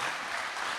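An audience claps at a lively formal event with the President and ministers present, a brief dense burst of many hands sustained throughout.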